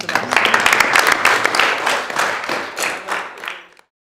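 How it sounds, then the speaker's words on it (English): A classroom of students claps together, dense and fairly loud applause that thins out and stops after a few seconds, with a brief spoken word near the end. "I think you need a round of applause for"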